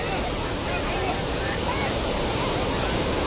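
A flooded river rushes during a flash flood in Nepal, a loud, dense, unbroken roar of churning water close by, with voices in the background.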